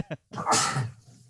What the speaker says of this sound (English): You had a sneeze on deck.